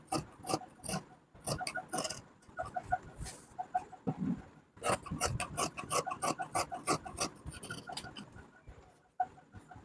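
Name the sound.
scissors cutting trouser fabric slowly along the curve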